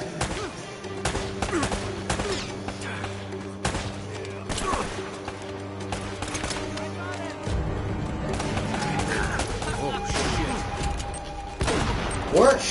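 Shotgun fire in a multiplayer video game, heavy booming blasts in irregular bursts over constant game noise, loud and close throughout.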